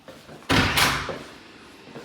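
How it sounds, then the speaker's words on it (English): A household door is opened indoors with a sharp clack of the latch followed by a brief rattle and swoosh, close and fairly loud, then quiet room tone. "So let's open a door here."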